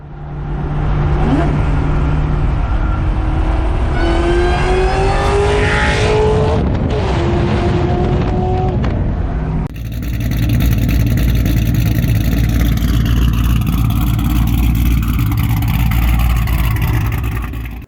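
A fully built 2004 SVT Terminator Cobra with Bassani 3-inch tailpipes and 4-inch tips revs hard, the exhaust roaring loudly, rising and falling in pitch, then settling into a deep, steady rumble up close.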